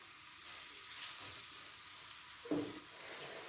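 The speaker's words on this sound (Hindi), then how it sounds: "ऑयल मेरा यहाँ पर गर्म हो चुका है। यहाँ पर मैं इसमें डाल दूँगी प्याज।" Chopped onions fry in hot oil for a keema matar dish, a steady close sizzle with a louder crackling burst partway through and no voices.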